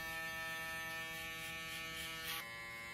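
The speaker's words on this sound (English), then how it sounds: "Use a trimmer to retrace the previous blend." An electric hair trimmer buzzes steadily while retracing the blend of a fade haircut, a close, even whir with a slight shift in pitch near the end.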